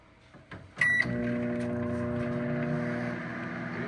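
A microwave oven warming butter starts with a bright beep, then settles into a steady low hum that runs on evenly and close by.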